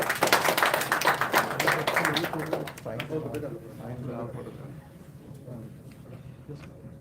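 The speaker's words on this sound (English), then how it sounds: "Can we please get a big round of applause?" An audience claps at a Sri Guru Nanak Dev Ji Gurpurab celebration in NSW Parliament, Sydney, in a brief burst that fades within a few seconds as conversation takes over.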